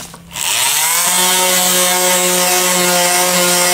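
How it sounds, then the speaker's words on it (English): Palm sander with 60 grit sandpaper spins up on fence boards, a steady loud whirring buzz with a strong hum that holds for several seconds after a brief start. "I'm going to use 60 grit sandpaper on my palm sander"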